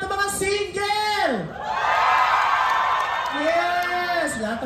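A crowd of singles shouts and cheers at a hosted Independence Day event, a broad swelling roar that follows a host's voice and then fades as she speaks again.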